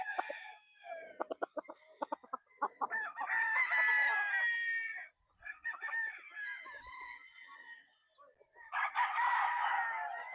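Wildcat White gamefowl roosters at a game farm crow repeatedly, with loud drawn-out calls from nearby birds mixed with rapid clucking bursts and a fainter crow farther off, and no talk over them.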